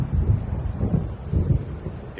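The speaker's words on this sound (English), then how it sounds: "It seems there's a storm coming." Thunder from an approaching storm in Alan Wake Remastered rolls as a deep, continuous low rumble with a few swelling pulses, loud and without voices.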